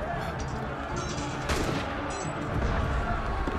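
Gunfire in Assassin's Creed Unity crackles through a busy game battle, several sharp shots and bursts over crowd and combat noise, with one distinct crack standing out midway.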